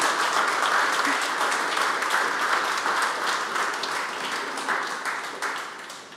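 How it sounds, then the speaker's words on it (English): Audience at a tech talk applauding, a sustained round of close, crisp clapping from many hands that stays steady before slowly thinning toward the end. "Round of applause, please."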